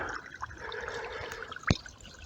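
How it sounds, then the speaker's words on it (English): Spring water in the Peak District trickling out of rocks, a faint steady burble and splash heard up close outdoors, with a brief louder knock near the end. "Lovely clear crystal water flowing out of the rocks."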